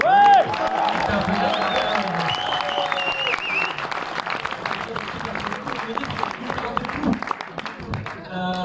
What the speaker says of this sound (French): je pense que tout le monde peut s'applaudir, on peut applaudir Tinam